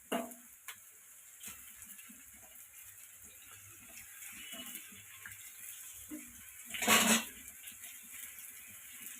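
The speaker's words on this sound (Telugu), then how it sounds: "అవి లైట్గా వేగినాయి కదా, ఇంకొంచెం వేయించుకొని కరివేపాకు వేసుకొని దించేసుకోవాలి" Cauliflower manchurian frying in a pan with curry leaves, a steady low sizzle with occasional spoon stirs and a louder burst of spattering near the end.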